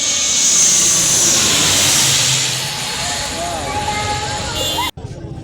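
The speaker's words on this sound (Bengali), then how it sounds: "ওই যে আমাদের বিমান দেখা যাচ্ছে।" A loud, steady roar of an aircraft engine dominates, with a hissing rush on top, then cuts off abruptly near the end.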